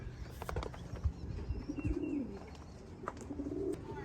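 Racing pigeons coo low and repeatedly at a loft, soft throaty calls recurring over steady background noise, with a few faint chirps and brief knocks mixed in.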